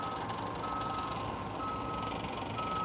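A truck's reversing alarm beeps in a steady repeating pattern over constant engine and site noise at a construction site for solar panel foundations at SpaceX Starbase, Boca Chica, Texas.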